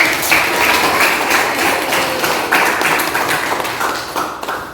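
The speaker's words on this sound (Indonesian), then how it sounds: "Tepuk tangan." Students applaud in a teacher-training classroom session, a loud, close patter of many quick claps that stays busy and uneven without easing off, and no one speaks over it.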